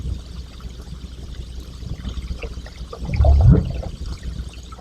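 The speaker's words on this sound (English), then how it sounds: "Just a humpback whale making a call known as a whoop." A low, rising whoop call from a humpback whale swells briefly near the end, against a murky, rumbling underwater background.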